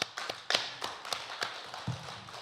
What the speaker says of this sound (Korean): 예수님에게 2000년 흘렀지만 박수 한번 보내면 어떨까요?